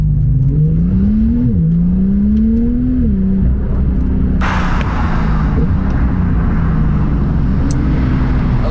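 A Porsche 991.2 Turbo S with its exhaust silencer removed and a stage 1 engine remap accelerates hard, its loud engine tone climbing through a couple of gear changes before fading into steady road rumble and wind noise.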